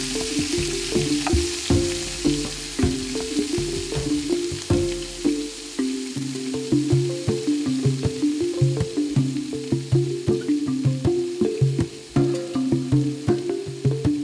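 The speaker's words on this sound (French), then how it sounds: "Notre chef la met à colorer dans de l'huile bien chaude" Meat browning in very hot oil in a pot, a loud continuous sizzle and crackle close by, with stirring clatter and some rhythmic tonal clanks over it, no voices.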